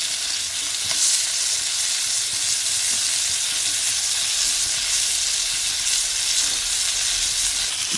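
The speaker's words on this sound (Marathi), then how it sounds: "चार बांगडे इकडे मस्त फ्राय झालेत" Coated mackerel fillets fry in oil in a pan over a village wood-fired clay stove, making a loud, continuous close-up sizzle and hiss with faint crackles and no talking.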